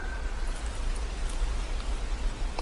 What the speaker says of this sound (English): you may hear the raindrops on the roof